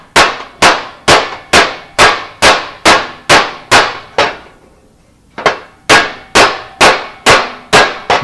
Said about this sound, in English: I'm just trying different hammers. I've tried picks, round tips, ball peen.